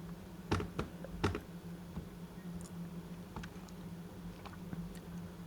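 Quiet computer keyboard typing card details into an online payment form, a few louder key taps early on, then soft scattered clicks over a low steady room hum.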